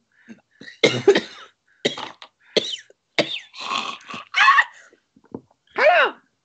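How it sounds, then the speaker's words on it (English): Several short, harsh coughs in bursts, close and fairly loud, with brief pauses between them. "We were causing the cough."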